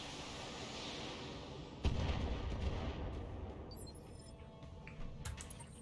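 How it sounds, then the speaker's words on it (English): Gunshots and artillery fire in a military simulator game: a constant low rumble of distant booms with a sharp crack near the two-second mark and further muffled blasts rolling underneath. "I hear shots!"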